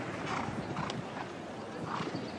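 A horse gallops on the show jumping derby course at La Baule's CSIO5* event, its hooves thudding in a quick, rhythmic beat at moderate distance, with a commentator's voice faintly underneath.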